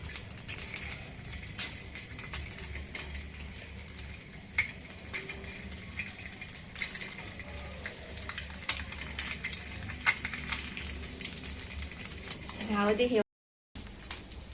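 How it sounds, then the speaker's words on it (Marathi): Eggs frying in oil on a tawa produce a continuous sizzle with occasional clicks and scraping, a brief voice near the end, then a short moment of silence. "आता त्यात ही अंडी फ्राय करायची."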